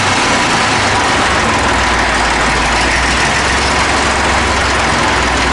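A small Dexter tractor engine runs steadily at idle, a loud, close, continuous low rumble with no pauses.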